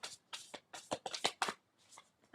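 A deck of tarot cards shuffled by hand in a series of quick, close riffling bursts with short gaps between them, fading out at the end.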